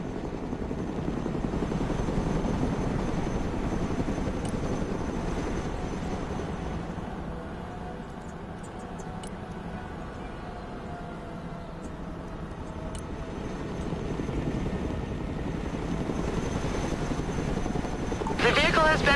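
A Chinook helicopter in a video game holds a steady, droning rotor hum for the whole stretch, rising and falling slightly in loudness, moderately distant.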